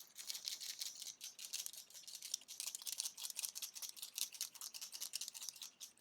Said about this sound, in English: shake the pen several times with the tip side up